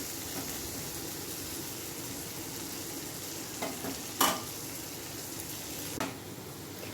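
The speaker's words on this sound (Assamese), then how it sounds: "আলুখিনি ভজা হৈ গৈছে।" Potatoes fry in a pan, giving a quiet, steady sizzle with a few short clinks and scrapes as they are stirred.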